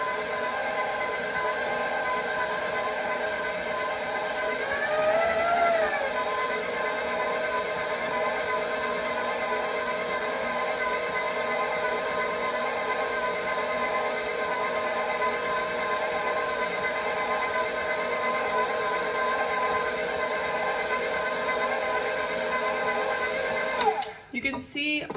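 An electric stand mixer churns cinnamon roll dough in a continuous loud, even motor drone, with the sound shifting briefly as the dough comes together, then cutting off abruptly near the end.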